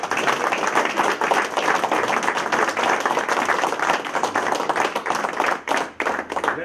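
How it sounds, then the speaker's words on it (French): Audience claps for a Téléthon fundraising total, a continuous dense patter of many hands at moderate volume, running steadily before thinning slightly near the end. "On peut vous applaudir."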